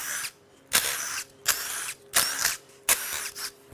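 A power tool unbolting parts from a sludged 2.3L EcoBoost engine out of a 2019 Ford Ranger, four short loud whirring bursts separated by brief pauses, close up and alone.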